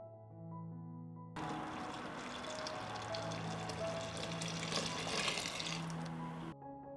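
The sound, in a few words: water pouring into a pan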